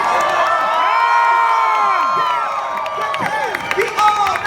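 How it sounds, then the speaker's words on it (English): Convention crowd at a comic expo cast reunion cheers, whoops and claps loudly and continuously, with high screams and shouts rising over steady applause throughout. "I need you guys to give them a big round of applause"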